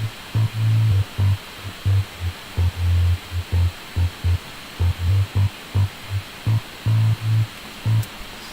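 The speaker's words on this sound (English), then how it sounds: "Bass line sounds like this" Processed electronic bass line from a song, played alone as short, punchy low pulses in a steady rhythmic pattern, loud and clean with a faint hiss behind it.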